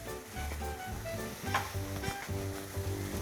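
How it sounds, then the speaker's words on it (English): A spoon stirs a mooli thepla mixture of grated radish, roasted cumin powder, chopped coriander and green chilies in a bowl, giving soft repeated scraping and mixing strokes at close range. "Give the mixture a good stir."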